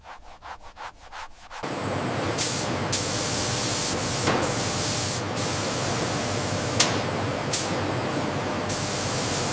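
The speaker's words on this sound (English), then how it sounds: "Advanced spray systems apply consistent color, enhancing both appearance and durability." After a few soft knocks, a factory spray system applying color to hyena leather starts a steady hissing spray that runs on continuously, close and fairly loud, with brief bursts along the way.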